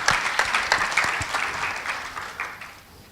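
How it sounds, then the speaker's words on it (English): An audience at a fireside chat and panel discussion gives a short round of applause, close and lively at first, then thinning and fading over a few seconds. "Could you clap for Brian Paul in Studio 19?"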